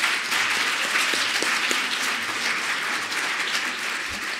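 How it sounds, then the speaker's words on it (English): An audience at a higher education event applauds after a presentation, a steady dense round of clapping that holds evenly for several seconds. "I think he deserves another round of applause."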